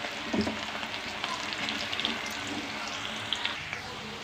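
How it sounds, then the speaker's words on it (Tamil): Banana flower pakoda batter, crumbled into hot oil bit by bit, fries with a steady dense sizzle and crackle, with small spattering pops, close and fairly loud throughout. "எண்ணெய் இப்போ நல்லா காஞ்சிருச்சு இந்த மாதிரி கொஞ்சம் கொஞ்சமாக உதுத்துக்கிட்டே போடணும்"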